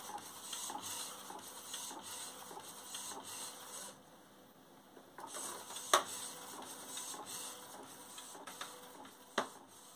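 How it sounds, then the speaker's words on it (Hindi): An Epson L1800 series printer printing on sublimation paper, a steady mechanical whir with rhythmic carriage shuttling and a brief pause, plus a few sharp clicks and clunks from the feed, close and moderately loud without talking. "ये देखिए हम लोगों का प्रिंट निकलना जो है स्टार्ट हो चुका है।"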